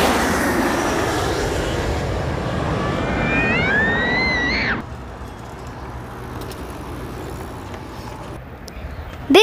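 A jet airplane passes low overhead near Reagan Airport at Gravelly Point Park, a loud, building roar with a whining engine tone that peaks and then cuts off sharply halfway through, leaving quieter ambient noise afterward.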